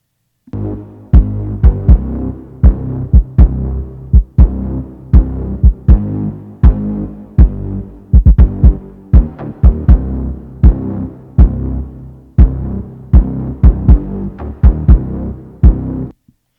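Repeated kick drum thumps driving a full mix, with the low 60 Hz region ducked on each hit by a Waves F6 dynamic EQ; steady, loud, evenly paced beats over sustained bass and music.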